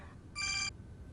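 A telephone rings with one short electronic ringtone burst, bright and clear, heard alone in a quiet indoor scene.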